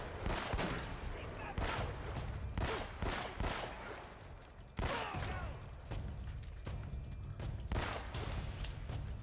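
Bursts of gunfire fill the Uncharted: Drake's Fortune PS4 remaster firefight, with sharp shots cracking repeatedly and unevenly throughout, loud and close, while someone talks now and then.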